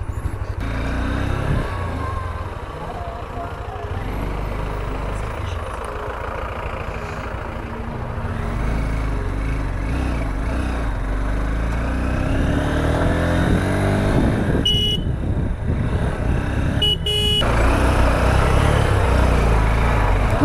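A motorcycle riding down a steep road toward a Japanese temple near Batasia Loop, Darjeeling, its engine droning steadily and loudly up close with wind rush and slight rises in revs, and no talking.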